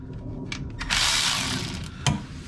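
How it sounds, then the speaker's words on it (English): A hand ratchet tightens carrier bearing bolts on a Mini Cooper S R53, giving a few quick clicking pawl bursts and one louder metallic clack, up close in a quiet garage. "I'm just gonna start tightening up my carrier bearing bolts"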